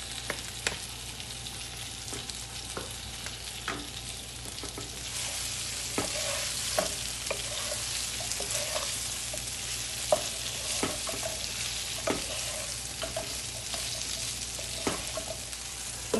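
Potatoes sizzle in a pan with salt and turmeric, a steady close frying hiss broken by scattered clicks and scrapes of stirring.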